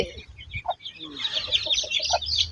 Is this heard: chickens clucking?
yes